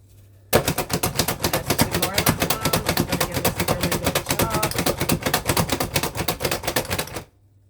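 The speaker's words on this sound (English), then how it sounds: "this Cuisinart little handheld chopper I've had forever" A Cuisinart handheld electric chopper chopping garlic clatters rapidly in one long, loud, continuous burst lasting several seconds, then stops abruptly.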